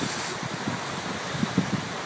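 Surf washing onto a beach along the Chin Beach hiking route, a steady broadband roar of breaking waves with wind buffeting the microphone and a few low thumps near the end.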